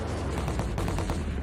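Rapid bursts of sniper gunfire in a Lego animation crackle continuously in a dense, rattling volley lasting the whole moment.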